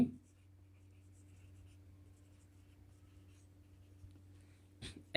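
A pen scratches softly on paper while a math solution is written out, faint intermittent strokes over a low steady hum, with a sharper tap at the end.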